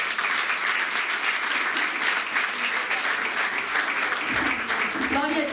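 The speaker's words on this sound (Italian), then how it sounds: "Flavia Lavilla, un applauso." Applause fills the room at a student music recital at Studio Toscanini in Deliceto: sustained, even crowd clapping from start to finish, with a brief sound near the end.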